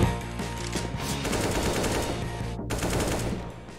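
Rapid bursts of automatic gunfire in CS:GO, continuous and fairly loud, briefly cutting out near the end before resuming.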